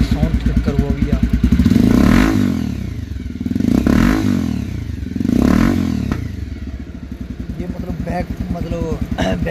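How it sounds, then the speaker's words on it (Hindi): A Bajaj Pulsar 220 motorcycle fitted with an aftermarket exhaust revs hard close by in three loud rising and falling bursts, its engine chugging steadily between them. "और इसकी साउंड चेक करो अभी आप।"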